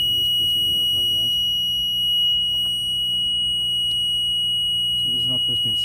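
A continuous electronic engine alarm tone sounds steadily before the engine is started, loud and unbroken throughout, with someone talking over it at intervals.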